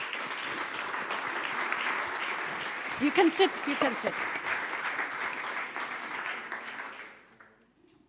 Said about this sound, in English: a big applause to all the panelists